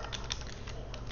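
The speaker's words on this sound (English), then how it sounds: "open up your terminal and type sudo apt install" Quiet, quick keystrokes on a computer keyboard as a terminal command is typed, a brief run of soft clicks close by against faint background hiss.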